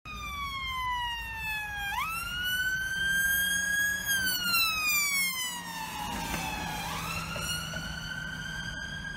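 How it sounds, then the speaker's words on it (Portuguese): A loud ambulance siren wails continuously, its rising and falling tone dropping noticeably lower in pitch as the vehicle passes by, a Doppler effect. "a ambulância vem com a sirene ligada"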